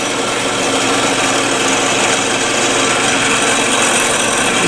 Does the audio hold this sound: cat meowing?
no